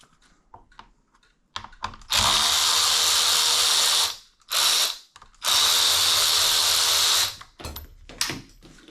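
A power tool works on the old brake handle of an Inmotion RS electric unicycle, running in two long loud bursts with a short spurt between, amid scattered clicks and handling noises.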